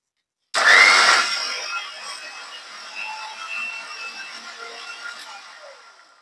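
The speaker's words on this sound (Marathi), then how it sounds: "कलिंगडचे काप आपण छान असं बारीक ज्यूस करून घेऊया मिक्सर मधून" A mixer grinder blends watermelon pieces into juice, starting abruptly with a loud whirring burst that gradually fades and settles into a lower, steadier hum as the contents liquefy.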